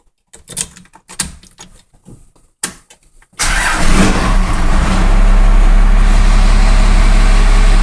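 A 1997 Dodge Ram 2500 pickup with a Cummins diesel engine cranks briefly after some soft clicks and handling noise, then fires up into a loud, steady, rumbling diesel idle close by.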